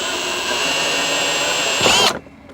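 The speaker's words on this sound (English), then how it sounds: "If you need to measure and mark your holes, you can. All right, there's our pilot hole." A power drill boring a pilot hole in a Honda Element to mount a backup camera, a loud, steady, close whine that rises briefly, then cuts off.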